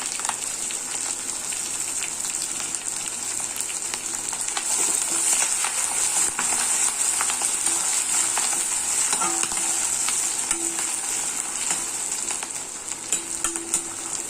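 Ginger and green chilies fry in oil for temple-style lemon rice, making a continuous bright sizzle with occasional stirring clinks, steady and close, no speech.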